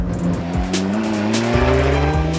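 Alfa Romeo 4C 1750 TBi sports car driven hard and loud, its engine note climbing and dropping through gear changes with a steady close roar and some tyre noise, no talk.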